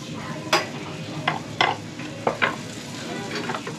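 Eggs frying in a pan, with spatula stirring and scraping giving several sharp clatters over a steady close sizzle.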